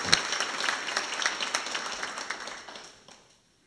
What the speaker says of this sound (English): I think we owe them a round of applause for what they do for this state.